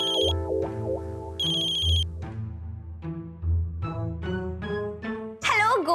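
A phone ringtone plays loud and close as a repeating melodic tune in several bursts, with short gaps between them.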